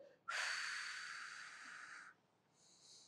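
During a diaphragm exercise, a person draws one long, breathy inhale lasting nearly two seconds, close and quiet, then lets out a shorter, softer breath.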